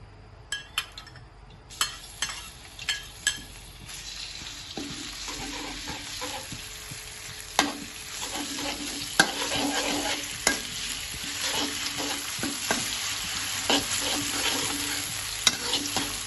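Garlic, red onion and chili fry in cooking oil in a pan, a steady close sizzle broken by repeated clinks and scrapes of a utensil stirring against the pan.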